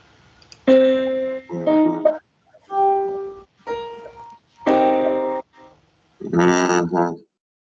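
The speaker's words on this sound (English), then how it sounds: "That's the minor 7th chord." A series of sustained minor seventh chords, each held about a second with short gaps between them, ringing clearly with no talking.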